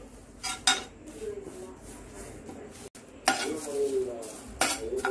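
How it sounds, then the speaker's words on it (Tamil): A handful of curry leaves dry roasts in a pan while a spatula turns them, with scraping and clinking strokes against the metal and a faint crackle between them. "அதை வந்து திருப்பி நல்லா ட்ரை ரோஸ்ட் பண்ண போகிறேன்"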